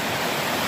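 Water rushes steadily along a wilderness hiking trail on a hot day, a constant broadband wash with no voices over it.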